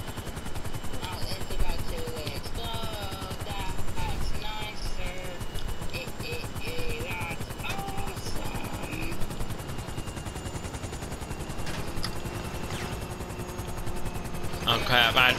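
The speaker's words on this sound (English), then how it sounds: "This helicopter is literally about to explode." Helicopter in GTA V Online, its steady rotor drone running throughout the game mix alongside bursts of gunfire and other in-game effects, with voices talking over it.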